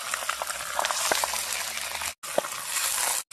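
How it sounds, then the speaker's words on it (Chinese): Fish frying in hot oil in a small wok, a locally caught fish going in tail first: a steady, close crackling sizzle with sharp spattering pops, cut off by a brief silence near the end before the sizzle resumes. "先煎尾巴，再煎头"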